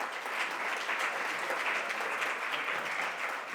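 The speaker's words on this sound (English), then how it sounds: "Please, can I have a round of applause?" Steady applause from a panel audience welcoming a guest, an even wash of many hands clapping at a moderate distance, with no talk over it.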